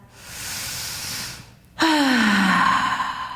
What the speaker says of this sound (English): Let's take a deep inhale, exhale out the mouth.